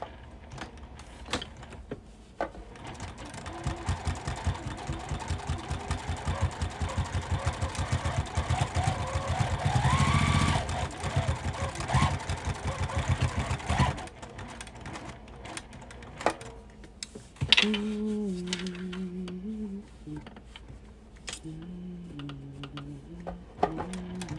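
A sewing machine back-stitches across a quilted bag near a zipper, a steady mechanical whirring that runs for several seconds, stops, then resumes in shorter bursts, with a voice speaking near the end.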